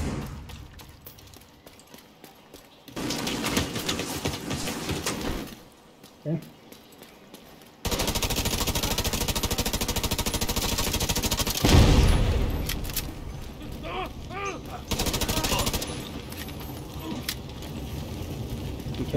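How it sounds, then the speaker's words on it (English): Automated turret machine-gun fire in The Division 2, loud sustained bursts of rapid shots broken by short gaps, mixed with other game noise and a voice talking over it. "You have a fucking turret."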